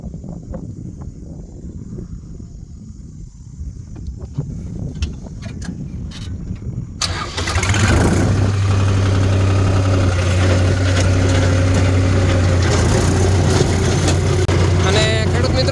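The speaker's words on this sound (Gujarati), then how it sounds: "જો આ રીતે ટ્રેક્ટર હાલે છે 55-10ની એક મજા અલગ છે" A New Holland 5510 tractor diesel engine, fitted with a rotavator, cranks and catches at about seven seconds, then runs steadily with a loud, constant low drone and vibration. Before the start only quiet ambient noise is present.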